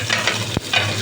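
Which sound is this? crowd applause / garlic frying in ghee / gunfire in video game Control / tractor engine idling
garlic frying in ghee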